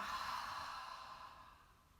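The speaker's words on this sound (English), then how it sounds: "Breathe in, and breathe out." A deep, breathy exhalation from a kids' yoga breathing exercise, one long soft sigh that starts fuller and slowly fades over two seconds, close and quiet with no talk.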